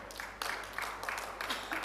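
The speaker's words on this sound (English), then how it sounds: "a well-deserved round of applause from the crowd" Crowd applause at a women's 10-ball pool match, a brief soft patter of clapping from an audience, fairly distant and low in level with no voices standing out.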